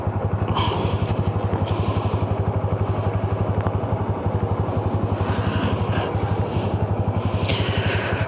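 Honda Super Cub C125 motorcycle on a break-in ride, its small single-cylinder engine running steadily and close with a continuous low thrum, accompanied by road and wind noise and occasional clatter.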